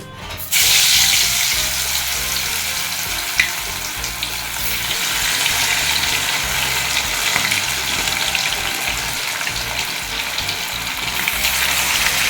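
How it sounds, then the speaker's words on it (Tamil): Kanangatha mackerel frying in hot oil, a loud dense close sizzle that erupts suddenly and holds steady with crackling spatter throughout. "இங்கே வந்து எண்ணெய் விட்டுருக்கேன் மீன் வறுக்கிறதுக்கு"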